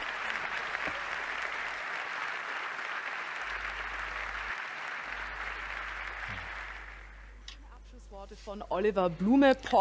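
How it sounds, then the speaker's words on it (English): Audience applause at a Porsche sports car anniversary presentation, a broad, steady wash of clapping that fades out around the eighth second before a voice begins speaking. "I think that's worth a round of applause for all these lovely people."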